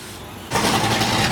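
At a car meet, a car engine comes to life and runs with a choppy idle, loud and close after a quieter start.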